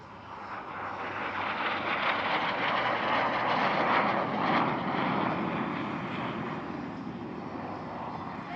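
A Canadair CL-13B Sabre, the Canadian licence-built F-86 jet fighter, passing at the Paris-Villaroche airshow: a broad jet roar swelling to a peak midway, then slowly fading, heard at a distance with no talk.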